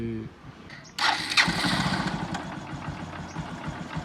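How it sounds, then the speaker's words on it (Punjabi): A Honda motorcycle engine cranks and catches after a brief pause, then settles into a steady, close idle rumble. "ਮੋਟਰਸਾਈਕਲ ਦਾ ਇੰਜਨ ਚੈੱਕ ਕਰ ਲਓ"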